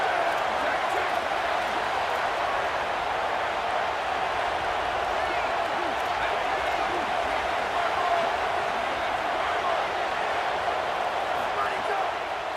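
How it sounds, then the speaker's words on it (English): A stadium crowd roars steadily for the defense on a third down in a Texas State vs Texas football game, a broad, sustained wash of cheering that runs the whole time under a commentator's voice. "Big 3rd down as the crowd gets behind this defense."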